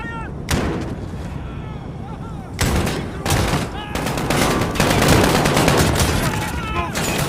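Gunfire in the Modern Warfare video game campaign: loud bursts of rifle and automatic fire with booming explosions, sustained and dense, mixed with shouted voices.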